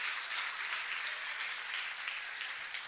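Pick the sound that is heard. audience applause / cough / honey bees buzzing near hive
audience applause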